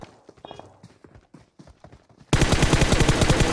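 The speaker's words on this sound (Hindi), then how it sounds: "मैं चला रहा हूँ शॉर्ट गन।" Shotgun fire in a mobile battle-royale shooter on a Poco X3 Pro: a few faint shots early, then a loud, dense run of rapid gunfire for the last second or so.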